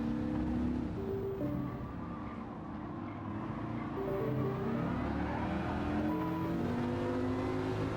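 A 2006 Dodge Viper SRT10 Coupe races in a driving video game, its engine droning steadily at speed down a straight, with shifting tones as revs rise and fall, fairly quiet and without talk.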